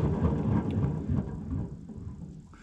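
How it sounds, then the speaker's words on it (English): The mower deck spindle of a John Deere GX75 with worn, loud bearings gives off a continuous low rumbling, grinding rattle that stays fairly steady and fades slightly toward the end. "it's just kind of a loud set of bearings"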